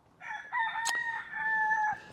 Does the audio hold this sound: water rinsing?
no